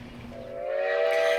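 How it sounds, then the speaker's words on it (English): An old-fashioned steam train in Virginia City sounds a steady whistle that swells from faint to fairly loud over about a second and a half, with no voices. "This old-fashioned steam train is one that you can book tickets for and ride"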